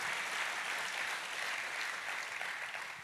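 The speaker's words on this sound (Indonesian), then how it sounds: "Tepuk tangannya pula yang meriah buat Tuhan kita" Church congregation clapping during a sermon, a broad, even wash of applause that stays level and moderately distant throughout, with no speech on top.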